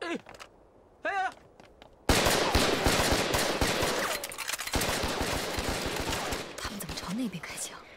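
Rapid bursts of gunfire fill a scene from a Chinese anti-Japanese war film, loud and sustained for several seconds after a brief exchange of voices, with dense overlapping shots and some shouting mixed in.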